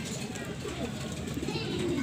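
Racing pigeons coo softly inside a loft, a low murmuring burble close by that builds slightly toward the end, with a person talking over it.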